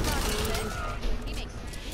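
A quick burst of gunfire in the zombie shooter Back 4 Blood, dense rapid shots crackling over a noisy game scene while voices talk underneath for under two seconds.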